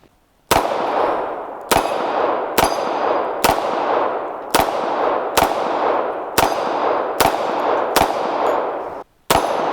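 A .45 semi-automatic pistol fires nine sharp, loud shots in a steady, evenly spaced rhythm, each crack ringing out with a long decaying tail, with no talking.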